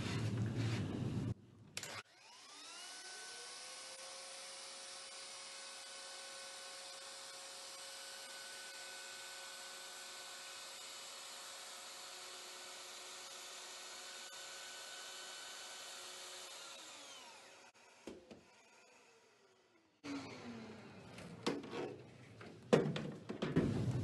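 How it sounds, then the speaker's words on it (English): A power router trims the edge of a panel in one steady, loud whine lasting about fifteen seconds, then spins down. Brief handling noise comes before and after. "So we're just going to run a router across the edge of this one."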